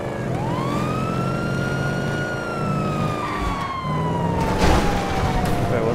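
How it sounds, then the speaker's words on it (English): An ambulance siren in GTA roleplay wails in a long falling sweep over steady vehicle engine noise, fairly close and prominent, with a few short bumps and clunks later on. "There's an ambulance going up there now."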